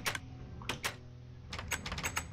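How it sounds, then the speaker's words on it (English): Trapdoors on a Minecraft redstone device clack in quick clusters of sharp, close clicks with short pauses between them. "you have to suffer the clicking trapdoor sounds and the lights flashing"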